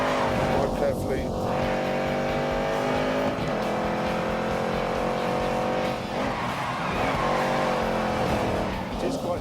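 A push-rod, two-valve iron engine drives a host's car in The Grand Tour racing game, a steady droning growl held throughout with tire noise, while someone talks over it.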